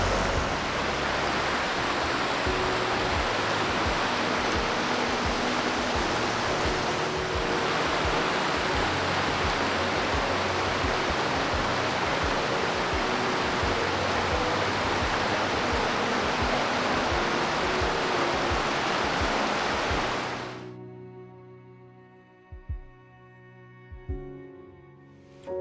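Waterfall in the Great Smoky Mountains National Park, heard from afar as a steady, loud broadband rush of falling water for about twenty seconds before cutting off abruptly to quiet.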